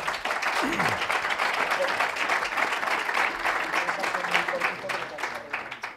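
An audience at a Real Zaragoza fan debate applauds for Falcao, a dense continuous wash of clapping from a crowd that holds steady and strong before easing off slightly at the end, with faint voices mixed in.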